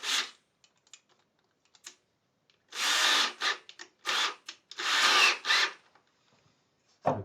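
A drill bites into a wooden guitar neck in a luthier's workshop through a pilot hole: three loud, grinding bursts of a second or so each, separated by brief pauses and faint handling knocks.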